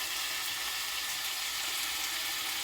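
Onions and meat sautéing in a pan for Moroccan couscous make a continuous, even sizzle close by. The hiss is broad and steady, with no talk over it.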